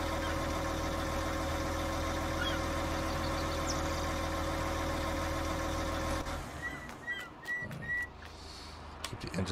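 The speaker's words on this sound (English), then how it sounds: "Keep the engine on so we can have this laudable sound." The engine of a tractor pulling a Bourgault seed cart idles with a steady, close, low hum for most of the time, then fades as a few faint chirps and knocks come in.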